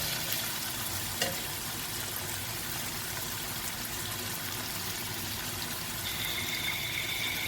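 Chicken frying in a pan with salt, cumin and chilli powder, stirred steadily; a continuous close sizzle with scraping texture runs throughout, with no talk.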